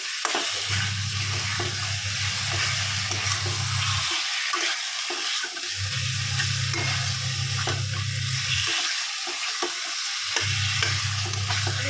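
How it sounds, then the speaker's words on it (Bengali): Spice masala with green peas sautéing in a pan for egg curry, a loud continuous sizzle with stirring scrapes, punctuated by a recurring low droning hum that cuts in and out. "এবার মশলা ভালো করে কষানো হয়ে গেছে"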